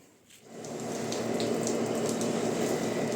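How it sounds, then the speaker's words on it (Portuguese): Water rushes across a milking parlor floor after milking, swept by a squeegee, a steady close hiss that swells in after a brief quiet start and continues evenly. "Vamos passar o rodo agora para tirar a água."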